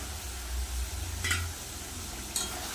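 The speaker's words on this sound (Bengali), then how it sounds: "আলুটা মশলা দিয়ে ভালো করে কষিয়ে সিদ্ধ করে নেব" Potatoes frying with spice masala in a pan, a steady soft sizzle broken by a couple of brief clinks of a spoon stirring against the metal.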